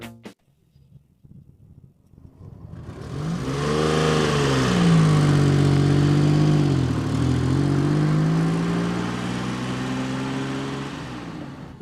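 A Citroën SM, the Maserati-engined car, starts up and drives along a street, its engine rising to a loud steady drone with shifting pitch as it accelerates and cruises, heard alone without talk.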